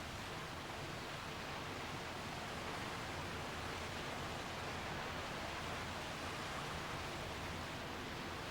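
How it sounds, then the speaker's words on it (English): Clear water running off from settling tanks at a drinking-water treatment plant, a steady, dense rushing wash that holds level throughout with no breaks. "Here's the clear water running off for further treatment."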